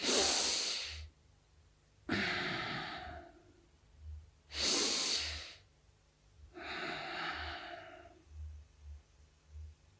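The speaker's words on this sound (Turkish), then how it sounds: "Şimdi önce göbeğinizle nefes alıp verin ve nefesinizi alırken göbeğiniz şişsin ve insin aşağı." Deep belly breathing as an exercise: four slow, heavy breaths close to the microphone, long airy inhales and exhales alternating with short pauses, and nothing else.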